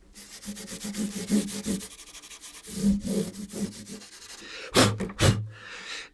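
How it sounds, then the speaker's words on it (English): Cloth rubbing lemon oil over a guitar fingerboard, giving soft scraping strokes in bursts that are close and fairly quiet. "literally I'm just going to rub this over the fingerboard"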